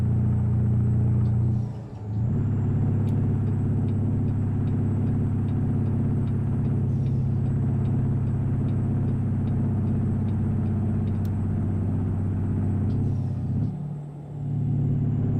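A Peterbilt 389 truck with a modified exhaust in American Truck Simulator drones with a steady low rumble, dipping briefly around two and fourteen seconds as if shifting gears, then returning to a constant engine tone.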